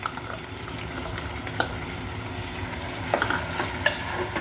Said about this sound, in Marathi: आपण घातलेल्या फोडणीमध्ये ही मटकी एकजीव होईल इथपर्यंत छान अशी ढवळून घ्यायची आहे